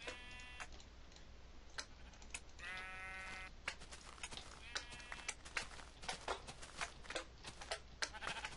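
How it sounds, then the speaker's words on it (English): Sheep bleat in a superflat Minecraft world, several short calls popping up between ticking, clicking game sounds with no talking over them. "Oh, look, sheep."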